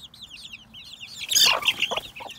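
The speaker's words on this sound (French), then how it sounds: "Les poules veillent." Hens cluck softly in a coop, a series of short repeated clucks, then a louder flurry of squawking and rustling near the middle before settling back to quieter calls.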